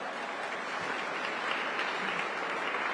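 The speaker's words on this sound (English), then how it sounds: "let's give Scrooge a great round of applause" A crowd gathered for the light show inside the former Philadelphia Macy's store, home of the Wanamaker Organ, gives a steady round of applause, a dense wash of clapping heard at moderate distance throughout.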